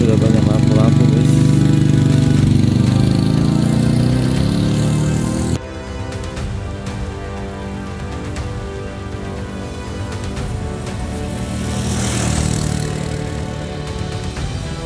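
Motorcycles rumble past on the Tanjakan Cikarang climb in Central Java. The engine drone is loud and close at first, then a steadier, fainter hum follows, with people talking over it throughout.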